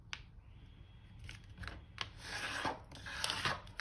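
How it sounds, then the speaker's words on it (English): Paper zine pages being folded and creased with a bone folder, a series of close, dry rubbing and scraping strokes with crisp paper crackles, building louder toward the end. "I'm going to fold that with our bone folder"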